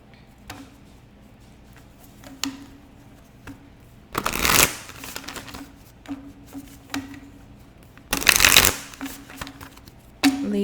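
A deck of tarot cards is shuffled close by in two loud riffling bursts a few seconds apart, with soft card handling and taps in between, and no talking.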